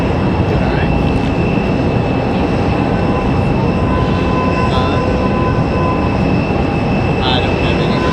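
A JetBlue Airbus A220-300 on final approach at Raleigh-Durham International, arriving from Boston, makes a loud, steady engine roar with a constant whine, dense and unbroken throughout.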